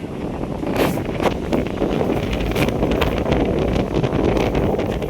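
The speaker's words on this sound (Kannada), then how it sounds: "ಅಂದರೆ ಹೆವಿ ಗಾಳಿ" Heavy wind buffets the microphone outdoors at a temple, a loud, constant roaring rush with gusty surges throughout and no clear voices.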